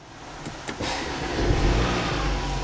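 A 2018 Audi Q5 engine fires up after a couple of short clicks, catching quickly and settling into a rising, steady idle close by.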